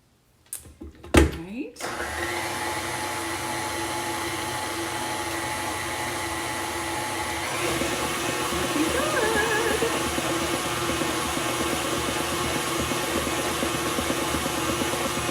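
An electric mixer whirs loudly and steadily through pumpkin bread batter after a few short knocks at the start, its motor pitch shifting slightly partway through, with a voice speaking over it.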